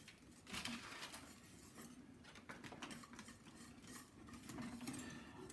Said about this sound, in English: Add the gelatin leaves one by one and give a good whisk